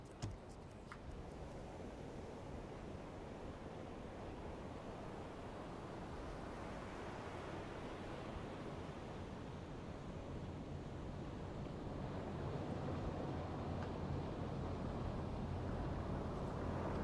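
A submarine cruises at sea in the game UBOAT, giving a steady, broad wash of ocean and hull noise with low rumble that holds evenly throughout, no talking.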